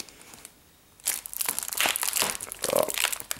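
Tough plastic packaging crinkles and tears as it is pulled off a Nintendo 3DS game box, a quiet pause giving way to close, busy bursts of crumpling and ripping.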